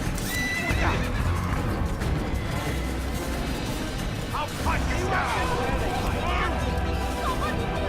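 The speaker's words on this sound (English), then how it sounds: "it looks like the horse maybe can't go through" Horse in the Assassin's Creed video game galloping with steady clip-clop hoofbeats and whinnying neighs, loud and continuous under a player's talking voice.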